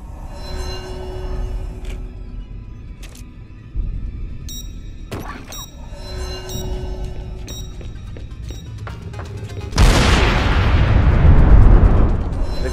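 Bomb blast in the video game Dead Rising 4: a sudden loud, broad explosion bursts in near the end and roars on in a dense rumble, after earlier scattered clanks, game music tones and background talk.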